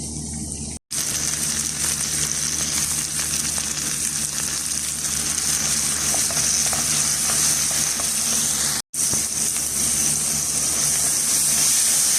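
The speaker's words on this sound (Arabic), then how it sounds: "نزلت عليه البصل والثوم، راح اسهيه" Onion and garlic fry in leftover oil with a steady, loud broadband sizzle that runs almost the whole time, broken by two brief cuts.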